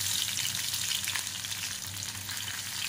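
Garlic dropped into hot oil in a pan, frying with a steady, bright sizzle that holds evenly throughout, no voices.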